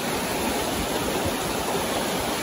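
Bhivpuri waterfall near Mumbai, close by, with water rushing hard in a dense, steady roar that holds loud and unbroken throughout.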